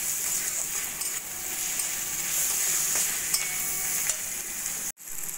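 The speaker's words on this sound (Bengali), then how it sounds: "2 মিনিট মতো ভাজা ভাজা করে নেব।" Chopped tomatoes fry in a pan with onion, ginger, garlic, salt, turmeric, Kashmiri chili and coriander powder, giving a steady close sizzle with light stirring scrapes and a brief cut near the end.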